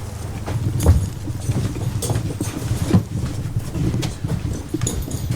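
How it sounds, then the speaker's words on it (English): Horses walk in a barn while being saddled, their hooves giving off a steady series of dull clip-clop thuds close by against a low background rumble. "We're going to saddle up the horses in the barn."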